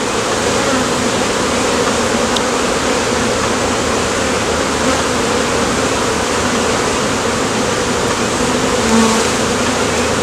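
A dense, steady buzz of many honeybees, close and loud, droning continuously without a break.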